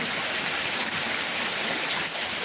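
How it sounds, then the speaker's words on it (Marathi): Heavy rain pours down in a steady, dense hiss with no pauses, close and loud throughout. "अरे बापरे लय जोरात पाऊस आहे"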